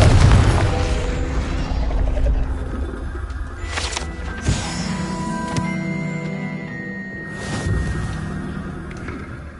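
A Confringo fire-blast spell in a wizarding video game sounds as a few sharp, booming bursts over a low mechanical rumble, with quieter clicks and ambient game noise between the hits.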